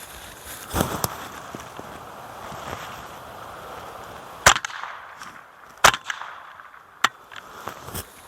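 A Glenfield Model 75 .22 rifle fired outdoors with cycling failures: sharp, separate cracks at uneven gaps between quiet handling noises, with light wind across the microphone.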